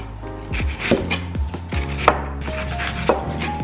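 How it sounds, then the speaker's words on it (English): A knife chops through food on a board, cutting it thinly in a series of distinct, fairly close knocks at an uneven pace, with a low hum underneath. "Now you want to slice this really thinly."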